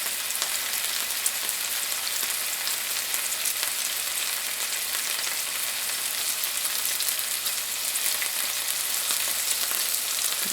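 Sea trout fillets fry in a hot pan, giving a continuous, even sizzle with dense crackling throughout and no talking.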